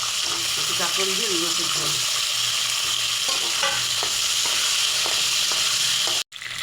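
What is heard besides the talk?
frying teasel gourd and potato in pan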